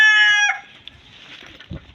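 A rooster on a rural farm in Rosario, Philippines, one loud close crow cutting off after half a second, followed by faint scattered clucks and low background rustle.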